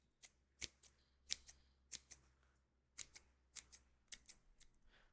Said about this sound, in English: I've never used scissors before in the ASMR video